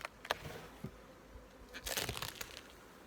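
Honey bees in an apiary around hives ready for the nectar flow, with a faint buzzing mixed with scattered crackling and crinkling handling noises, quiet and fairly close.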